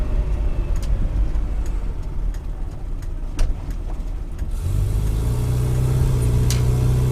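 A 1992 Rover Mini Cooper S replica drives up a gentle climb, its small engine giving a steady, continuous road drone with tyre noise, a low hum settling in as it keeps pace with traffic ahead.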